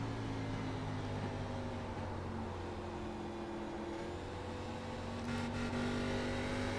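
A race car engine in a racing video game drones loudly and steadily from on board through turns 3 and 4 at Phoenix, a continuous buzzing hum with a brief surge of higher whine near the end.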